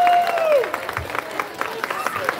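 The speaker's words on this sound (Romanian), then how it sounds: "merită un rând de aplauze" An audience applauds a speaker at a Moldovan event: scattered, moderate clapping from a crowd follows a brief tone at the start, staying fairly light and uneven throughout.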